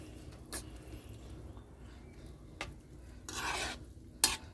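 A spoon stirs pechay greens in a cooking pot of pork soup, making a few quiet scrapes and clinks spaced over several seconds against a low background hum.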